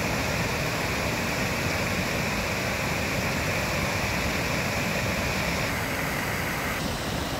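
Water pours over a small waterfall on the Leno stream near Rovereto, a continuous broadband rush that stays steady and close, with no voices.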